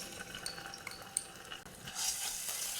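Garlic ginger paste fries in cooking oil, a soft, close sizzle broken by light stirring scrapes and clinks, building to a brighter hiss toward the end.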